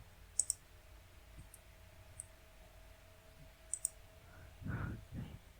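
Faint, sharp mouse clicks come in quick pairs and singles at a desk while a web layout is edited in WordPress, set against quiet room hiss.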